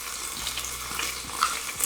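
Rinsed rice tipped into hot oil for a vegetable asopao, giving a steady, fairly quiet sizzle with a few brief clinks over roughly two seconds, no voices.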